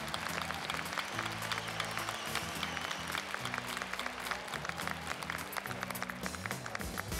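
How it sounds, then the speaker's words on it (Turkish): Studio audience applause on a Turkish masked-singer competition show, a dense steady wash of clapping with musical tones and crowd noise underneath, loud and continuous throughout. "Alkışlarınızla."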